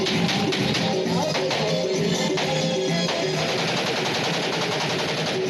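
Celebratory aerial gunfire at a wedding celebration, heard as a loud, dense stream of rapid shots running without a break, with a faint voice mixed in.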